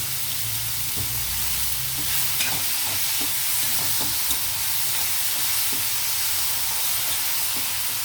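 Mixed vegetables frying in a hot pan for chicken roll filling give off a loud, dense, continuous sizzle with faint stirring scrapes. The sound is close up and steady throughout, with no voices.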